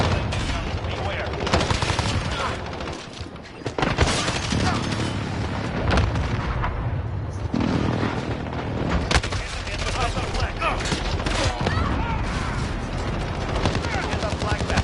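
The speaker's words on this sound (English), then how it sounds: "Allied precision airstrike." Precision airstrike in Call of Duty: Modern Warfare multiplayer, heavy booming explosions mixed with dense gunfire and mechanical noise throughout, with a voice talking over the battle.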